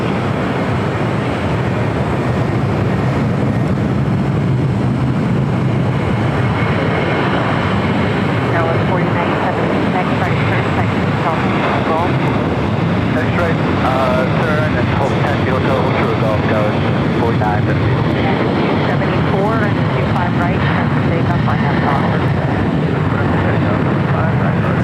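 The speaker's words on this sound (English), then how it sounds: "Next takeoff, Alaska Airlines Flight 1352 heading to San Jose, Costa Rica," An Alaska Airlines Boeing 737-800 taking off at LAX, a loud continuous jet roar that fills the whole stretch with a broad, steady rumble. No voice is heard over it.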